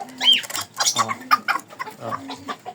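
Small serama hen clucking in a series of short, close clucks on a backyard breeding setup, with a brief higher squawk near the start and chicken calls continuing throughout.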